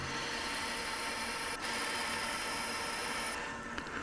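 Steady broadband machining noise of a 6.8 mm drill cutting a tap hole for an M8 thread into metal, with a sharp change in tone near the end as the cut finishes.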